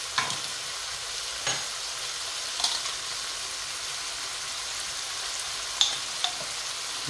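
Bitter gourd sautés with shrimp paste in a pan, a steady sizzle with occasional sharp spatula scrapes and clicks, close and continuous with no talking.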